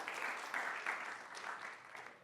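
An audience at a small business forum applauds a panel, a dense, steady crowd clapping that holds level and fades slightly at the end.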